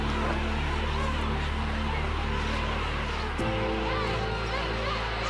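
A dense colony of tens of thousands of king penguins calls in an overlapping din of trumpeting and warbling on a subantarctic beach, loud and continuous.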